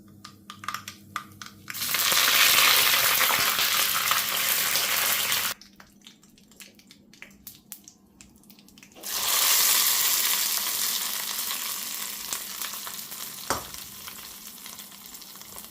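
Tomato chutney being tempered in a hot pan, with loud bursts of frying sizzle that rise sharply, drop away for a few seconds, then surge again and slowly fade, with light clatter at the start.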